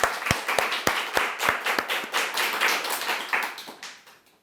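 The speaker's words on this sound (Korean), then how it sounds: "박수로 하나님께 영광." A church congregation claps in praise during a Korean sermon, starting with a few loud, sharp claps up close and swelling into a rolling burst of many hands that fades toward the end.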